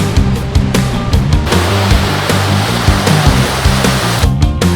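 Kvernufoss waterfall in Iceland gives a loud, steady roar of falling water, close and unbroken, with scattered splashing bursts on top.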